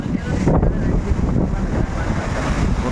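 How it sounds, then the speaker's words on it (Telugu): Large sea waves and wind on the open ocean during a ship journey to the Andaman Islands, a steady loud roar of surging water and gusting wind buffeting the microphone throughout, with no speech. "నిజంగా ఇంత పెద్ద కెరటాలు మనం ఎక్కడ చూడలేము సముద్రం ఒడ్డులోన"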